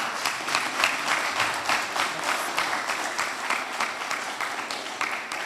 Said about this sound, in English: I think all of us need to give you a big round of applause